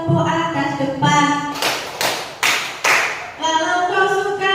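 Hands clap along to the Malay children's action song "Kalau kau suka hati": a run of sharp, evenly spaced claps sits between stretches of sung verse, close and loud over the voices.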